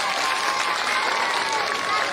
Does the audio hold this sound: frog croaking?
no